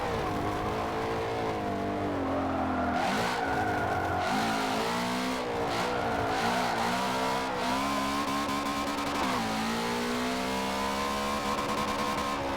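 Forza Motorsport 7 race car engine and exhaust, sustained and loud, with rising and falling revs through gear changes and brief tire squeal, no talk over it.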